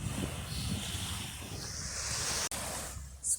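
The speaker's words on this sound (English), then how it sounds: "It looks pretty spectacular seeing the waves just moving like that." Ocean surf washes onto a beach at high tide at Jeram in Selangor, a continuous loud hiss and roll of breaking waves mixed with gusty wind noise on the microphone.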